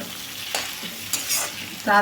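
Ridge gourd pieces frying in oil in a pan, a soft sizzle broken by a few brief stirring scrapes close by.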